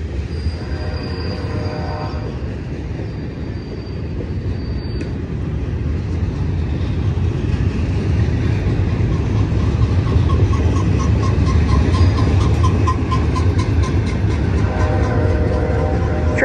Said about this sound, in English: Looks like a Z train to me. We have five locomotives up top